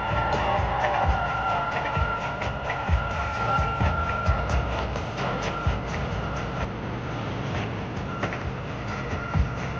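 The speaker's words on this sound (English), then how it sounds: "The train is approaching the station" A train pulls into a station, a steady rumbling roar with rhythmic clacks of wheels over rail joints and a faint squeal, sustained throughout at moderate distance.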